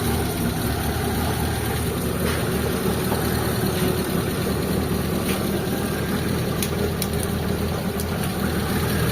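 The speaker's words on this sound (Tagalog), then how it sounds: "So ngayon, maandar na mga bossing ngayon." Old Mitsubishi Lancer engine idling steadily after a fuel pump replacement in the tank, with stale fuel, a rough continuous rumble close by with occasional small clicks, no talk.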